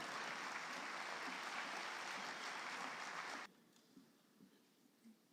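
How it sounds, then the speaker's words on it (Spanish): A seated audience at a book presentation in a cultural hall gives warm, even clapping for about three and a half seconds, then it stops abruptly, leaving a few faint scattered sounds in a quiet room. "Recibámoslo con un fuerte aplauso."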